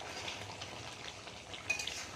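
Mutton frying in a pan gives a steady, soft sizzle with faint crackles and an occasional scrape, close and fairly quiet.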